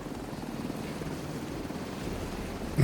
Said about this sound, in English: We can just take the chopper out.